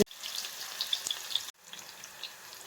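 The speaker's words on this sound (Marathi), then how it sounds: "तेल तापलेलं आहे कांदा टाकून" Chopped onion hits hot oil in a pan and sizzles loudly. It settles into a steady crackling fry, broken briefly as the onion is stirred.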